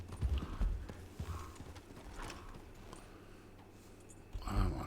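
Horse hooves clip-clop in the video game Red Dead Redemption 2, a steady run of soft, muffled thuds at low volume that continues through the clip.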